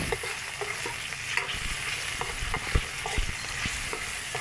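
Tomatoes sauté in a hot pan, a steady loud sizzle with repeated clacking stirs of a utensil against the pan, close up and without voices.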